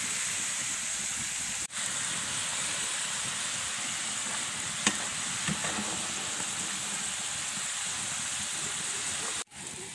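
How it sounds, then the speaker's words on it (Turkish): Potatoes fry over a wood fire, a steady, dense sizzling hiss of hot oil that holds evenly throughout with a couple of brief pops, no voices over it. "Odun ateşinde çıtır patateslerimiz kızarmak üzere."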